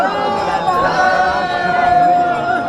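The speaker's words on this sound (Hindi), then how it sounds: "भीड़ काफ़ी ज़्यादा है," Large crowd of pilgrims at Basukinath Dham temple in Jharkhand, a loud, steady babble of many voices and shouts close by, continuous throughout.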